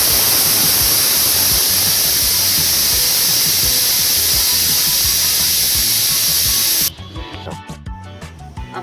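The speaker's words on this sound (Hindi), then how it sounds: "ढक्कन लगा के 1 सीटी लेनी है, और थोड़ी सी स्टीम आने के बाद गैस को बंद कर देंगे।" Pressure cooker cooking urad dal, releasing a loud continuous hiss of steam that cuts off abruptly near the end, leaving quieter clatter.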